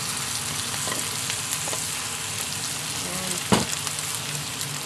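Tofu sisig fries and is stirred in a pan, a steady close sizzle with scraping stir strokes and one sharp clatter, while a voice speaks briefly.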